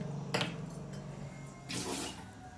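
Water drains out of a stacked sprout maker holding soaked black chickpeas. It comes as two brief, quiet splashing trickles, with a faint clink of the container between them.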